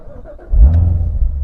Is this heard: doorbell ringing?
no